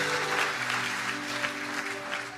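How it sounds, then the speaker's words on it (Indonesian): Congregation clapping during an online church service, a dense steady wash of many hands lasting a couple of seconds, fairly near and even, with no voices over it. "Kasih tepuk tangan yang paling meriah teman."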